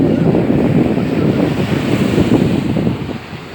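Sea waves wash ashore at Sunset Beach in Dubai, a loud continuous surf with heavy wind buffeting the microphone, easing slightly near the end.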